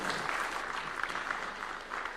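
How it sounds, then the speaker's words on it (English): Audience applause at a State House event for an affordable housing internship programme launch, steady sustained clapping from a crowd, moderately distant and continuous. "Round of applause for His Excellency one more time."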